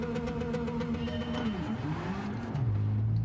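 Car accelerating on nitrous in Gran Turismo 7 during a 0 to 400 acceleration battle: a loud, steady engine drone holds through the gear run, its pitch sagging and shifting partway before settling lower near the end.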